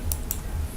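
Two quick, light key clicks a moment apart on a computer keyboard, close and fairly soft against a low room hum.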